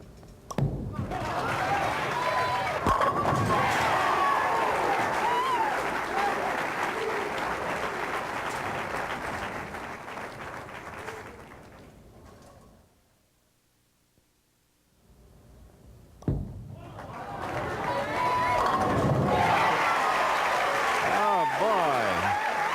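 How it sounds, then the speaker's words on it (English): Applause and cheering from a family and crowd at a PBA Tour bowling tournament, a steady wash of clapping that fades to near silence and then swells back up. "Quietly but enthusiastically cheering this man on."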